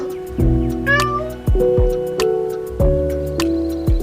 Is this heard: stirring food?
no